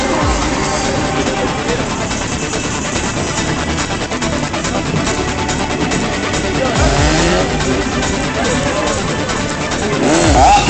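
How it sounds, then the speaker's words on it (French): A tuned car coasts freewheeling with its engine declutched at a tuning meeting in Mérignac, a continuous loud broadband roar of tyres and crowd noise with a louder surge near the end and voices mixed in. "moteur en roue libre pour le moment"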